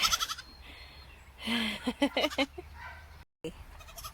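A baby goat kid bleats several times in short, shrill cries at close range, with a person speaking over part of it.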